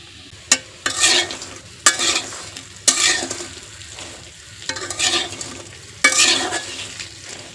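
Lentil fritters fry in hot oil with a steady sizzle, broken by repeated sharp scrapes and clacks of a spatula stirring and turning them in the pan, close and loud with no talk.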